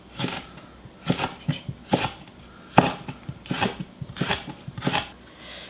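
A kitchen knife slices vegetables diagonally on a cutting board for summer dongchimi, about ten crisp close cuts in an uneven rhythm, with no talking.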